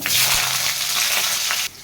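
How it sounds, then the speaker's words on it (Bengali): Potatoes fry in hot oil with five-spice, giving a dense, close crackling sizzle that holds steady, then drops off sharply near the end. "এর মধ্যে এবার আলু দিয়ে দিচ্ছি, আলুটাকে ভেজে নেবো।"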